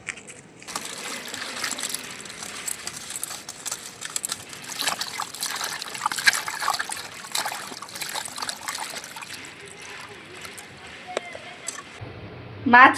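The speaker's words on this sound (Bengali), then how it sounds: "মাছ কাটা হয়ে গেছে এখন ধুয়ে নেব মাছ" Cut local magur catfish being rinsed in water, with steady trickling and splashing throughout, moderately close, ending in a brief louder slosh.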